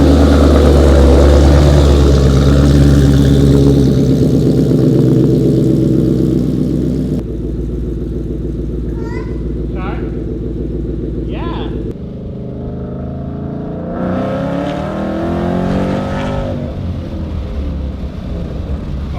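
A Mustang drag-build car's engine rumbles steadily at idle, then its pitch climbs as it pulls away on a test drive, loud and close, with a voice speaking over it.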